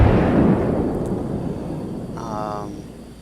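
Main guns of an Iowa battleship fire in the World of Warships naval game: one loud, deep boom opens and then decays into a long rumbling tail, with a brief tonal whine near the end.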